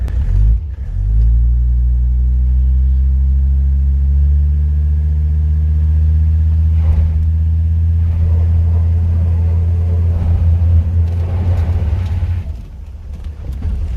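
A Mercedes W123 with an OM617 diesel engine revs and holds high under power braking, a loud steady low rumble that swells and sustains for most of the stretch before dropping off near the end.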